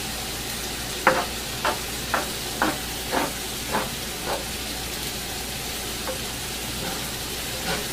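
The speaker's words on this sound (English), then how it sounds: "I'm going to put in my sauce and cook it in the same pan the meat was cooked in." Tomato-based puttanesca sauce simmers and sizzles in the same pan the ground beef was cooked in, with a steady low hiss broken by a regular series of short stirring scrapes, close and fairly quiet.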